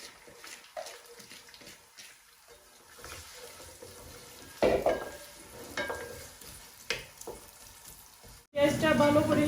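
Whole spices and panch phoron sizzle gently in butter and ghee in a pan, cooking for chicken korma or pulao. A soft, steady frying crackle goes on under stirring and utensil clinks, with a louder splash-like burst near the end.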